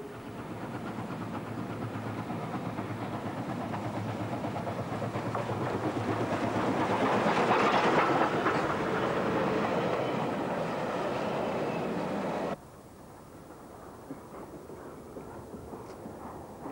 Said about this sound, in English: This loco is JS class 282 number 8001 on yet another freight train.